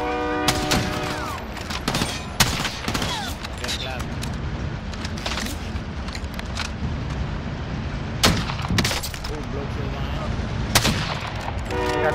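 Gunfire in a shooter video game during a squad match, sharp loud bursts and rapid volleys scattered across the stretch, some near and some distant, with players talking throughout.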